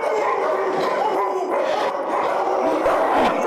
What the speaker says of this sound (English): Those are some wild dogs out there.